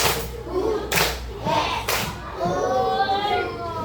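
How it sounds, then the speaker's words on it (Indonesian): Children clap in a one-two-three pattern in a classroom, with three distinct claps spaced across the first seconds, then a teacher's voice talking over the rest. "Tepuk satu, dua, tiga."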